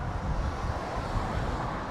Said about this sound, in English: I wonder how the audio is for everybody with the wind whipping around.